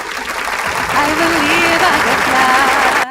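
A live studio audience at a election-night broadcast claps continuously and loudly, the applause mixed with voices and a few tonal calls or singing above it, until it cuts off abruptly at the end.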